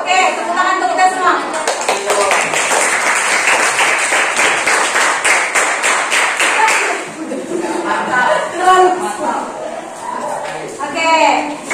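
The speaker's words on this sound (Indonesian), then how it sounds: "Oke, tepuk tangan untuk kita semua." Students in a classroom clap together in steady, loud applause for several seconds, then it thins out as voices take over.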